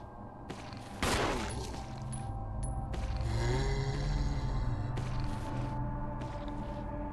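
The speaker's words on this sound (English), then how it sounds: "It sounds like it's shooting." Gunfire in the Resident Evil Remake video game: a sudden sharp blast is followed by a sustained rumbling, mechanical din with further bursts and electronic tones, fairly loud with no voices.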